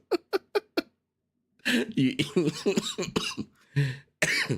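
A few short, sharp coughs in quick succession, then a pause followed by a longer burst of rough coughing and throat noises up close.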